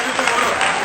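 A short burst of crowd applause, steady dense clapping at moderate volume with no pauses.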